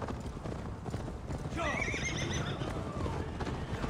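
Horse in the video game Assassin's Creed Valhalla, hooves clip-clopping at a steady gallop as a loud whinny rises midway, close and prominent over a busy game background.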